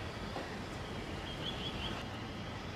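A steam engine pulls in after delivering the mail train, its continuous low rolling rumble and faint rail noise steady throughout, with a thin whine partway through.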